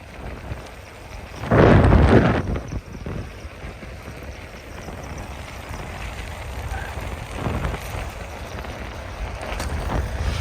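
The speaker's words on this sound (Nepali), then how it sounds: "फुल्ला उठाएको नि हावाले उडाइदिरहेको यार" Wind rushing and buffeting during a bicycle ride with friends toward Ranimahal: a steady roar with a loud gust early on and a smaller one later.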